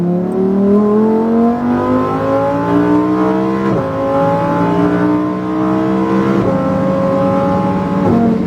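A loud Lamborghini Huracan STO engine revs up through rising gears on a racetrack, its pitch climbing steadily with two quick drops at the shifts, close and continuous, no voices.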